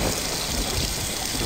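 Shower water running steadily in the horror video game The House 2, a dense continuous hiss of spray that stays even and close throughout.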